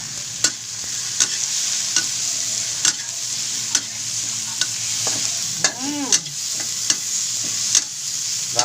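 Small shrimp frying for a mung bean dish sizzle steadily in a pan, with repeated sharp clinks of a utensil stirring at a loose rhythm, close and alone without talk.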